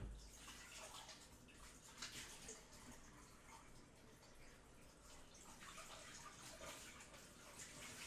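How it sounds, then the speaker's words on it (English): Tap water runs steadily into a sink while something is rinsed under the stream, a continuous hiss and splash with brief shifts in flow, close by in a home kitchen during Peruvian cooking. "Okay, so let me rinse this real quick."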